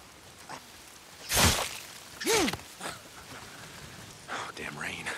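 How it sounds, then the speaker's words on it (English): Rain falling in a game, a steady faint hiss of rainfall with bursts of heavier noise, while a voice calls out over it. "If it's not the freaks, it's the goddamn rain."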